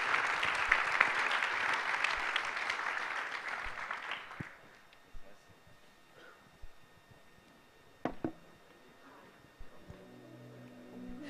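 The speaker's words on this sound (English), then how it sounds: "please give a big round of applause for these guys" Applause from a conference audience at a Bitcoin event in the Baltics, moderately distant clapping that carries for about four seconds and then dies away into quiet room noise with a few scattered thumps.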